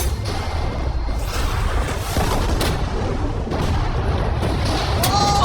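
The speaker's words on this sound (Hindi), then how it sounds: "ये एक बहुत ही बड़ा धमाका होने वाला है।" A heavy rumbling TNT blast in a video game fills the clip, dense low booms rolling continuously for several seconds with a brief high chirp near the end.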